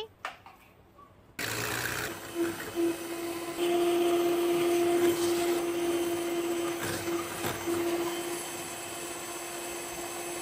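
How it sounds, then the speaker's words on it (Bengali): An electric mixer beats four eggs with sugar for chocolate cake batter, a steady close motor drone with a constant whine that runs throughout after a quiet start, with faint background noise. "4টা ডিম আমি সামান্য চিনি দিয়ে বিট করে নিচ্ছি।"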